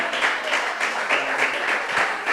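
Congregation applauding at a Christian church service, a steady wash of clapping with rhythmic swells, fairly close and continuous throughout.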